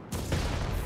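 Fireworks go off in Spider-Man 2, a single sudden blast that swells into a rumbling, crackling wash lasting under a second, moderately loud with no voices.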